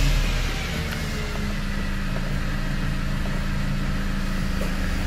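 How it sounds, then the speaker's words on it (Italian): A Mercedes car engine starts with a brief burst and then settles into a low, steady idle hum, heard from close by without talk. "prima cosa accendo la macchina"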